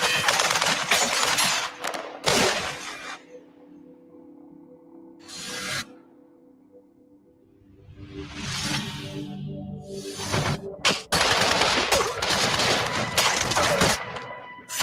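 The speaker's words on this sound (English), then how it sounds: "I proned out, aimed, and continued to fire at the suspect." Sharp bursts of automatic gunfire from police at the North Hollywood shootout come in loud clusters separated by brief lulls, with whooshing passes and distant rattling between volleys.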